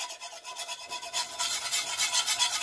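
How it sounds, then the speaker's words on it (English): A whisk scrapes steadily through a pot of potato soup as flour is worked in, producing a close, continuous rasping rub that grows louder and brighter partway through, with no talking. "So start adding in your flour, whisking it in, making sure to not leave any clumps."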